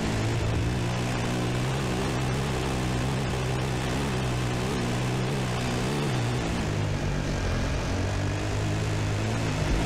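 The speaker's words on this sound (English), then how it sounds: "Oh, that helicopter." A helicopter in the Dakar Desert Rally game keeps up a loud, steady rotor and engine drone for the whole stretch, with no voices.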